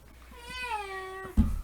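An angry cat lets out one drawn-out, rising and falling meow, close and clear, ending in a short thump.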